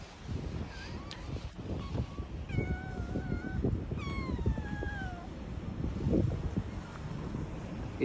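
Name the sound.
cat meowing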